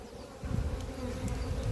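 Close, dense honeybee buzzing in an apiary, a low steady hum that thickens and grows louder after a moment, with no talking.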